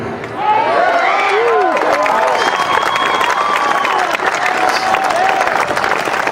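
A packed crowd at a Bowling Green Tea Party rally cheers and applauds loudly and continuously, with shouts and whoops rising over a dense roar throughout.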